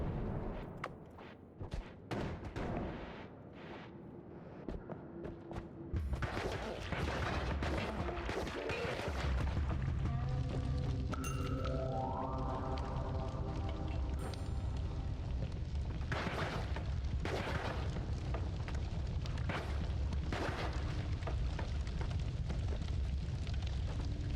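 Explosions in the video game Noita: a dense, loud, continuous barrage of overlapping booms and crashes, with a falling tonal sweep partway through and a few sharper blasts punctuating the roar.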